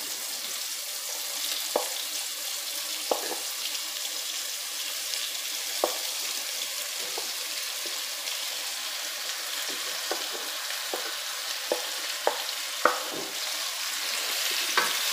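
Beef tongue sizzles steadily in a hot pan with a little paprika seasoning, with scattered clicks and scrapes of stirring spread throughout, close and fairly quiet, with no voices.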